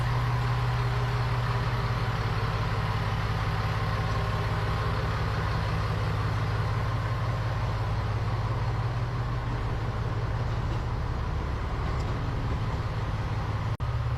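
A one-car local electric train sits idling at a station platform, giving a steady low engine-like drone and hum that runs unbroken throughout, with no talk over it.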